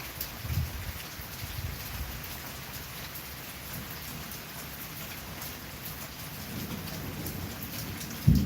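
Steady rain of an East Oklahoma City thunderstorm patters near a carport and workshop, with low rumbles of thunder rolling underneath and a louder close knock near the end; no one speaks.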